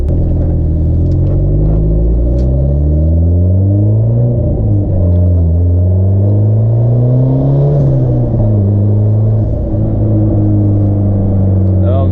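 A turbocharged Honda Civic drones loudly from inside the cabin as it slows and pulls into a post office lot, engine pitch sliding up and down with throttle changes, steady and close.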